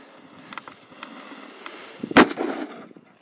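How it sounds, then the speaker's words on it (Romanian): A single sharp firecracker bang cracks out in the distance among faint scattered pops, with a brief echo afterward, set off in a bear's den. "Să vedem cum se aude dacă dăm o petardă de asta"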